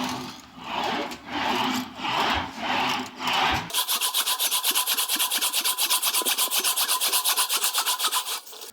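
A sheet metal panel for a rear bumper diffuser is worked on an English wheel, first in slow rolling passes, then a fast rhythmic rasping run of close back-and-forth strokes, alone and fairly loud.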